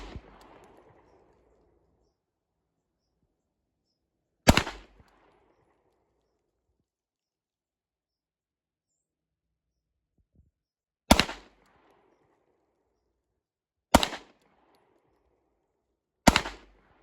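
A two-tone Sig P226 pistol fires 9mm rounds at a 15-yard target: five sharp, loud shots at uneven intervals, each a single crack with a short echo, separated by long silences.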